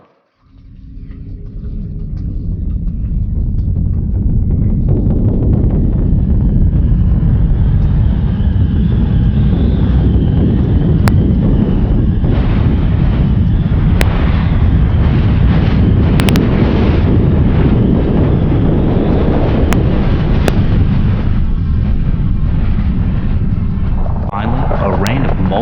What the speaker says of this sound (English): The shockwave arrives. Next comes the blast front.